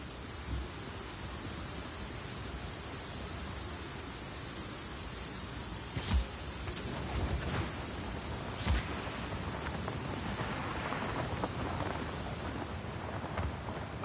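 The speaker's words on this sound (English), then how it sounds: "Storm's rolling in." A steady wash of heavy rain covers a thunderstorm in the video game Just Cause 4. Two sharp thunder cracks break through the downpour partway through.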